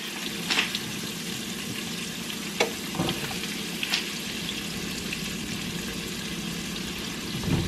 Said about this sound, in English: we're going to go ahead and throw our mushrooms in there